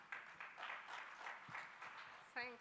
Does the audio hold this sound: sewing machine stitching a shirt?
no